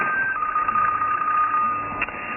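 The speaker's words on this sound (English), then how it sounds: "Geez, my phone's ringing." A phone rings beside a ham radio receiver on a snowy winter day, a steady electronic tone repeating over the hiss of radio static.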